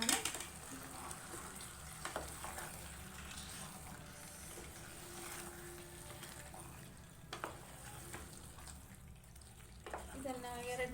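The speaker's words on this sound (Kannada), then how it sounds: "ಚಿಕನ್ನು ಇದು ಚೆನ್ನಾಗಿ ಫ್ರೈ ಮಾಡ್ಕೊಳ್ಳೋಣ" Chicken pieces frying in masala in a pan for a Sunday semi-gravy: a steady, close sizzle with occasional scraping stirs and brief knocks, continuing evenly throughout.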